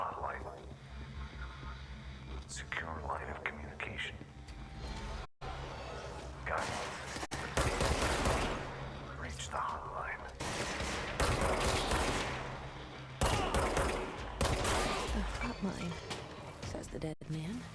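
Gunfire from a weapon in the video game Control, bursts of shots and whooshing effects recurring through the stretch amid dense game sound, with a voice talking over parts of it.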